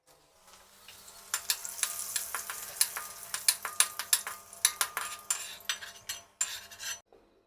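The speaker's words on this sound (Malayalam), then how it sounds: "ഇനി വറുത്ത് കോരുന്നത് ഒരു വറ്റൽമുളക് ചെറുതായിട്ട് കട്ട് ചെയ്തതാണ്." Dried red chili pieces fry in hot oil in a home kitchen, giving a steady crackling sizzle with sharp metallic clinks from a spoon against the pan, loud and close.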